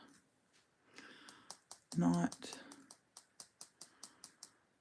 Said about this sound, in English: I'm going to just tap that right around the edge of this one.